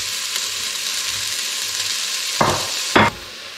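Onion hitting hot oil in a pan over medium heat, a steady broadband sizzle with two sharp louder bursts near the end as pieces go in, close and alone with no talk.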